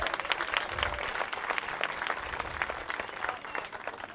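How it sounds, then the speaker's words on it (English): Audience at a Martin Luther King Jr. scholarship reception giving a round of applause, a steady moderate wash of many hands clapping, somewhat distant and continuous. "Can we give them a round of applause?"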